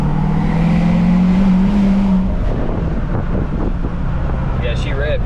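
A tuned Ford 6.7 Powerstroke diesel pickup pulls hard under load, its steady engine roar filling the cabin with rushing road and wind noise, and someone speaks over the sound.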